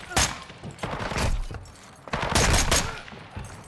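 Bursts of close automatic gunfire in Call of Duty: Modern Warfare 2, two loud volleys separated by a brief lull, with sharp cracks and thuds.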